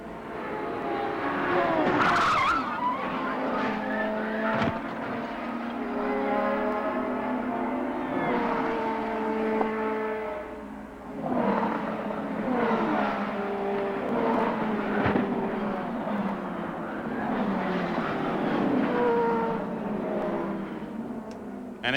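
IndyCar racing cars at Phoenix in 1994 roar continuously through a crash sequence, engine whine rising and falling as several cars pass, with a loud sharp burst near the start and no speech.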